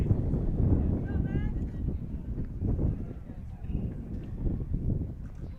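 Gusty wind buffets the microphone at an outdoor high school baseball game, a steady low rumble under a commentator's voice throughout.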